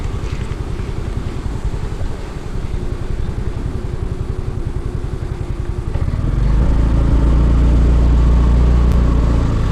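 A motorcycle engine runs close by on a jungle trail, its steady throbbing idle swelling to a louder, heavier roar after about six seconds.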